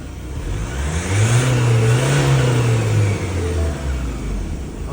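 A Ford Raptor engine cranking and catching, then revving up in a loud, close rising roar that holds and eases back to a steady idle.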